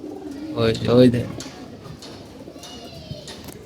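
Domestic pigeons coo close by, with a loud burst of throaty coos followed by softer calls and faint background noise.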